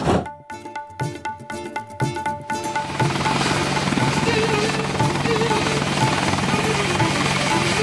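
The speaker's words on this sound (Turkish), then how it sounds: "Daha önce helikoptere hiç binmedin ha Rüstem abi." Helicopter rotor and engine noise swelling into a loud, steady drone that fills the scene after a few seconds of choppy, rhythmic rumble, with music or other sound mixed in at the start.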